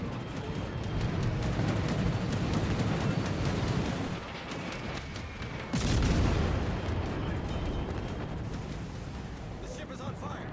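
Naval gunfire and an airstrike in the World of Warships: Legends video game: heavy rumbling booms and a sharp blast midway over a continuous battle roar.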